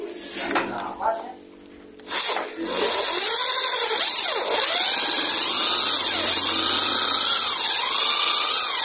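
A power drill starts after a few knocks and whines continuously at high pitch, drilling into a motorcycle spark plug hole on a Honda Grand/Supra, its tone wavering as it bites in, with voices early on.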